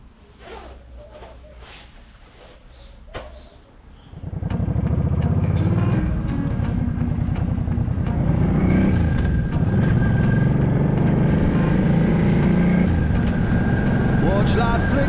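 Motorcycle loaded with camping gear on a road trip from Limassol to Paphos in Cyprus, a steady loud engine drone starting after a few seconds of quieter rustling and continuing without a break.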